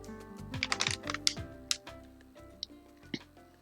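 Cutting out fabric pattern pieces for a lace-up back closure and modesty panel, with sharp scissor snips and ticking clicks at uneven intervals, close and moderately quiet, no voices.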